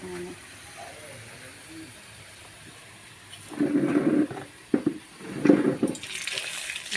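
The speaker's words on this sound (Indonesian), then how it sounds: "Terus kita harus goreng pindang" Pindang fish frying in a pan, with bursts of sizzling hiss that rise and fall in two strong surges over quiet kitchen background, close and moderately loud.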